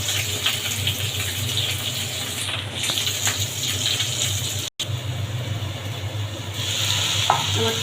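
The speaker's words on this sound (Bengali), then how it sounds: "মাছ ভাজাটাও হয়ে যাচ্ছে।" Fish frying in hot oil beside a curry being cooked down with a little water, a continuous close sizzle and bubbling with stirring noises and a short gap partway through, no voices.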